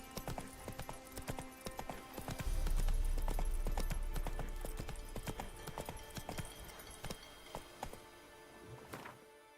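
Hooves of Roach, the horse in The Witcher 3, clip-clop in a steady rhythm throughout, loud and close, over a low rumbling game backdrop.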